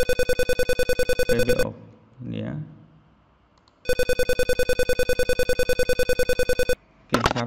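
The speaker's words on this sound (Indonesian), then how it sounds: "Buzzernya berbunyi." Buzzer in a Proteus ISIS microcontroller simulation, a rapid pulsing electronic beep in two long bursts separated by a pause, with someone speaking briefly in the gap.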